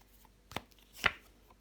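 Tarot cards are laid down one over another on a table, making two soft, separate slaps about half a second apart. They are close and quiet, with no talking.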